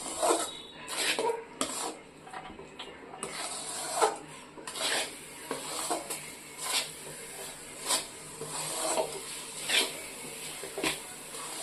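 A sweet mixture with chana dal is stirred and roasted in a pan, giving rhythmic scraping rasps roughly once a second, close and fairly quiet.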